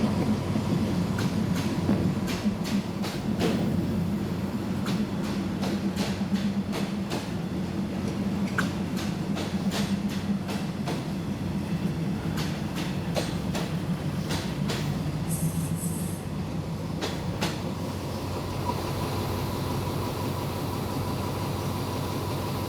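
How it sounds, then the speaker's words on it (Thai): Ordinary passenger train 383 pulling into platform 7 at a station, a long steady rumble with repeated rhythmic clacks of wheels over rail joints and a brief high squeal partway through. "ขบวนธรรมดาที่ 383 เข้ามาเทียบในชานชลาที่7"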